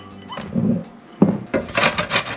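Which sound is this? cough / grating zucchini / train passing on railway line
grating zucchini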